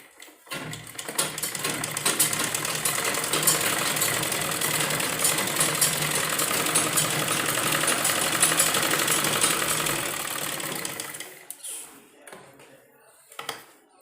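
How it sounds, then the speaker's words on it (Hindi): A sewing machine runs steadily for about eleven seconds, stitching along an umbrella-style sleeve with a double seam, then stops, leaving a few faint handling sounds. "हम सीधी अपनी बाजू के ऊपर से सिलाई लगा लेंगे"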